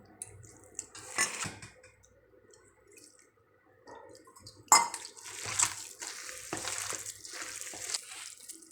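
Chicken rice pakora batter being mixed by hand with water added bit by bit: soft wet squelching and stirring in a bowl, with an occasional clink of the vessel, close and quiet.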